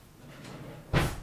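A kitchen drawer is pulled open once to fetch a teaspoon during a cooking task, giving a single short, fairly close sliding knock after a quiet room hush, with no talking.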